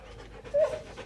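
A dog pants in a few quick, soft breaths close by, with a brief whimpery tone in the middle and no talk.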